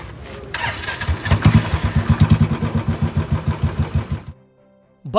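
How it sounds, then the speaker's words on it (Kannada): Stolen motorcycle hot-wired and started without a key: rapid rhythmic chugging of the starter and engine turning over for about four seconds, close and loud, then it cuts to near silence before a brief final burst. "Bike start."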